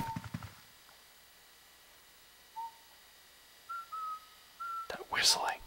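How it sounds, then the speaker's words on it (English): In the Luigi's Mansion video game, a faint whistled tune plays in short, separated, thin notes over a quiet, eerie background, with a burst of louder game sound at the start and another near the end. "That whistling is damn Mario."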